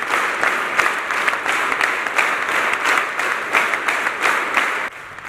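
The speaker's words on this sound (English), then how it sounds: "Participants engaged in a spirited clapping at varying intensities throughout the duration of the record-breaking event" A crowd claps steadily, a dense patter of many hands pulsing in waves, then dropping off abruptly near the end.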